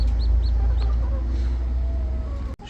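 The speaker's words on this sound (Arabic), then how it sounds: "تسمعون شباب الصوت طالع عندكم لو لا؟ صوت الزقزقة." Newly hatched chicks, two days old, chirp in short high peeps over a steady low rumble, with clucking fowl nearby and a brief knock near the end.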